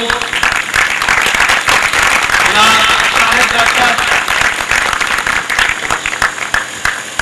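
Audience at a bike ceremony applauds loudly and steadily, dense clapping from many hands that holds throughout while someone speaks over it on a microphone.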